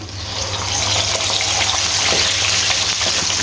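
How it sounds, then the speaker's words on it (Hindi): Chicken chargha frying in hot ghee, a loud continuous crackling sizzle that swells slightly and holds steady over a low hum. "पहले हम इसको 3 से 4 मिनट एक साइड से फ्राई करेंगे"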